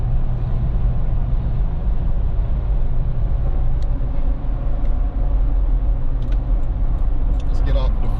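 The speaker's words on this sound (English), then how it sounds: "the cabin is still quite quiet, even with the muffler upgrade." Steady cabin drone inside a Lexus GX460 with a Magnaflow muffler upgrade cruising on a freeway, a constant low engine and road rumble throughout with faint light clicks near the end.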